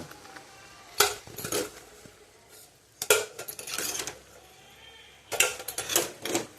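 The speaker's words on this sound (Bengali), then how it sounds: "এবার আমি ডিমগুলো এক এক করে তুলে নেব।" Eggs lifted one by one from a cooking pot of boiled eggs, giving three separate bursts of clinking metal and shell knocks with quiet pauses between them.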